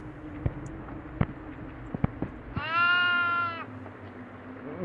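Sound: goat bleating

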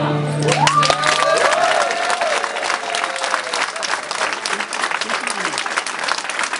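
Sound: audience applause

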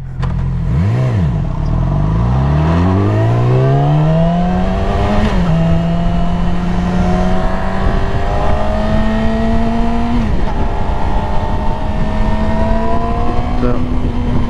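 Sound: Yamaha YZF R6 motorcycle engine revving, rolling on throttle

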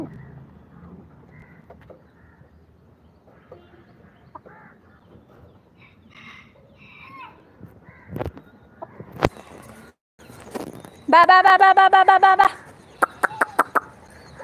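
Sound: crows cawing while fighting a hawk

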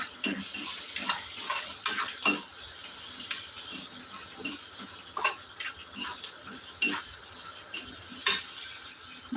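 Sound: cooking gongura tomato dried fish curry, stirring and frying

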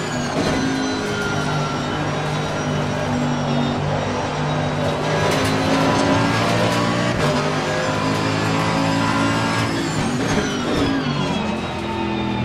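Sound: Corvette race car engine with dual-clutch transmission, Assetto Corsa Competizione video game

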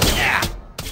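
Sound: gunshot in South Park video game

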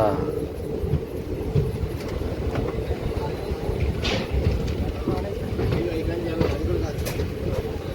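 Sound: superfast express train arriving at Nalgonda railway station

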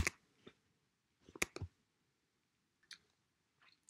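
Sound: mouse clicking to expand a software menu

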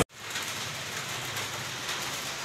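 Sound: heavy rain falling

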